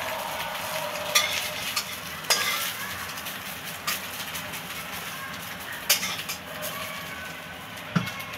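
An omelette fries in a pan with a steady, close sizzle, broken by a few sharp scrapes of a spatula.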